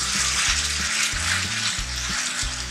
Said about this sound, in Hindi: अब हम इसमें डाल रहे हैं भिंडियाँ